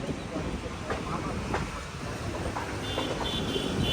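Tambaram Mangaluru Express rolling toward Coimbatore station, a steady rumbling clatter of wheels heard from inside the train, with faint high squeals toward the end.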